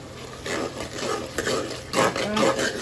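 Pea tadka for aloo matar cooking in a pan, a soft hiss with intermittent stirring scrapes and light clatter of a spoon against the vessel, close and moderately quiet.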